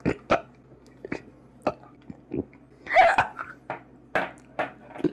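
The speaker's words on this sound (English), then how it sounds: "Why are you making gross burp sounds?" A series of short, abrupt throaty burps and gulping noises, close and isolated, spaced irregularly over a quiet background.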